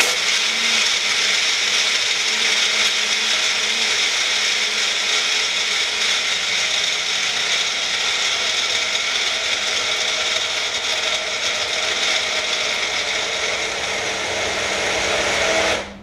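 A Medifast blender held on pulse grinds ice in one loud, steady, close whirring roar that runs unbroken for about sixteen seconds, then cuts off abruptly.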